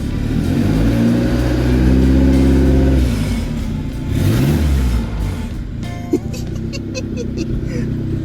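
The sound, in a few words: turbo car engine revving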